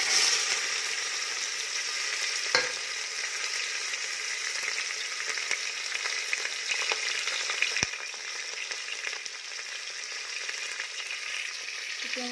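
Chopped onions fry in oil in a pan, giving a continuous, even sizzle up close, with a couple of faint knocks from a utensil and no voices.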